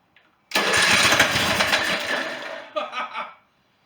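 A junk lawn mower engine on full choke fires and roars into a loud, rough run close by, holding for about two seconds before sputtering through a few uneven bursts and dying.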